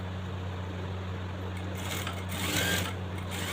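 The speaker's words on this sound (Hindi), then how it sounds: "इसे कन्ने की सिलाई लगा देनी है" Sewing machine stitching a fabric pant belt, a steady close motor hum with fast even needle chatter running continuously throughout, no voices.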